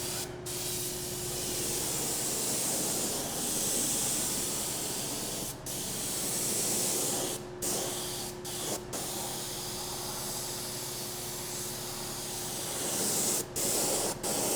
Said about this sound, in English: we're gonna hit it with the squirt bottle